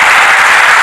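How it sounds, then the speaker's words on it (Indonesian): A church congregation breaks into loud, dense applause, many hands clapping together at close range in a short continuous burst. "Berarti tepuk tangan dulu"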